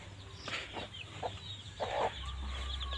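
Several chickens cluck in short, scattered bursts on a rural property, moderately close and fairly faint, over steady low background hum.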